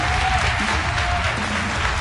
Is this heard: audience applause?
yes